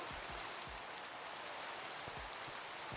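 Steady rain falls in the video game Minecraft, a soft, even hiss of drops with a few faint low thumps beneath, quiet and continuous with no voices.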